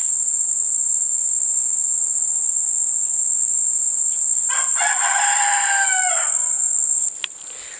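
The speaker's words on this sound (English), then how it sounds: "These are my chickens." Steady high insect-like chirring throughout, with a brief burst of chicken clucking and squawking partway through, no talk.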